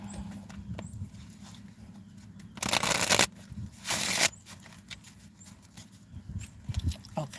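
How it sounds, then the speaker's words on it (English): A deck of tarot cards gets shuffled in two quick riffling bursts a second apart, close and crisp against quiet room background with soft handling noises. "right, one more shuffle."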